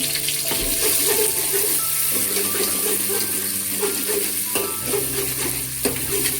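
Curry leaves, chilli, garlic, ginger and spices frying in a pan in a village kitchen, a loud steady sizzle with repeated stirring scrapes throughout.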